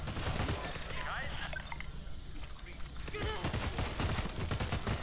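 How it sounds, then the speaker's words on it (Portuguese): Rapid bursts of gunfire in the zombie shooter game World War Z crackle in quick succession, mixed with game sound effects while someone talks over them. "Só tiro pra todo lado"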